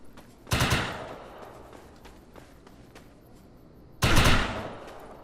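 Two loud, close gunshot blasts in the combat video game Defiance, separated by a few seconds, each with a bright crack and a decaying echo over quieter background rustle.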